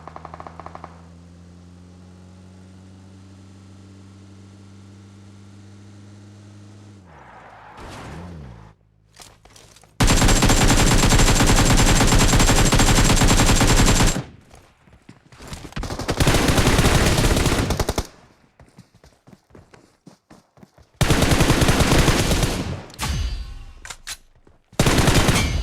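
Loud bursts of automatic gunfire ring out in a battle royale video game fight, arriving in several long volleys separated by quieter stretches with footsteps and movement.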